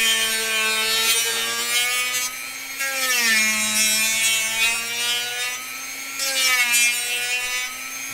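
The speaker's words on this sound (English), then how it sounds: "Alright, here we go with the Dremel." A Dremel rotary tool grinds steadily into wood, its high whining motor pitch dipping and recovering as it bites, with a brief lull near the middle before resuming; close and loud, no voices.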